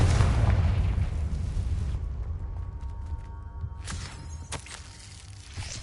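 A Confringo fire spell explodes in Hogwarts Legacy with a loud, rumbling boom that fades over a couple of seconds, followed by scattered softer game impacts.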